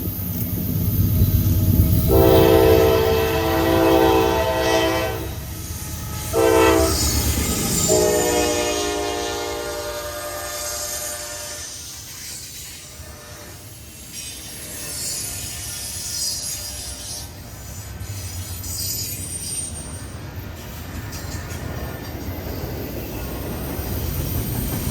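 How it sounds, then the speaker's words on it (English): Norfolk Southern 28N, a hotshot intermodal freight train at a railroad junction in Fostoria, Ohio, passes close by with loud horn blasts over a heavy rumble, then rolling wheels and squealing flanges continuing throughout. "NS 28N is next, hotshot intermodal from Chicago to Charlotte,"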